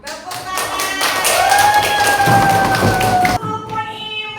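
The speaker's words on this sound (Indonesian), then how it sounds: "Tepuk tangan" A class of children claps their hands together in a classroom, a brisk burst of overlapping claps mixed with voices and a sung or chanted tone, then a short pause before more sound.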